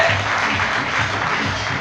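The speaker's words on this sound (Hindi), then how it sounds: "जोरदार ताली में चाहूंगा आपके लिए।" An audience at a success training seminar gives loud, dense applause, a brief continuous burst of many hands clapping at once.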